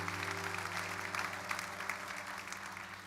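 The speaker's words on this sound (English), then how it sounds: "Give yourself a big round of applause." A pre-show concert audience applauds in a dense, continuous wash of clapping, loud and sustained throughout over a low steady hum.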